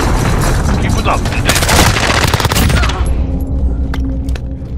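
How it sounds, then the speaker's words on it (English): Booming blasts and rattling gunfire from a Call of Duty Modern Warfare 3v3 Kill Confirmed match, loud and dense at first, then thinning out to scattered shots with a game voice speaking over the tail. "Enemy cruise missile incoming."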